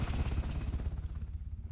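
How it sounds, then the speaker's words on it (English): Helicopter rotor blades thumping overhead in a rapid, rhythmic chop that fades as the craft moves away, faint and brief with no other sounds. "The ubiquitous helicopters in Vietnam were known for the sound of the blades, and I call it thunder."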